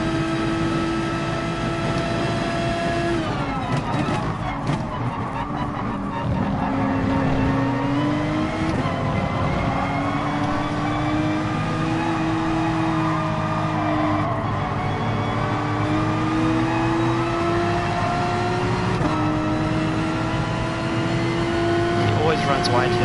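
Race cars roar steadily in the video game Gran Turismo Sport, engines holding a constant loud drone with gear shifts and pitch swings as they jostle through corners, while someone talks over them throughout.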